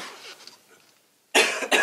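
Two close, loud coughs break a quiet stretch, the second shorter than the first.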